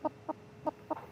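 A hen with a hugely swollen crop, examined and weighed at a vet clinic, gives four short soft clucks at a steady pace, close and quiet, with no talk over them.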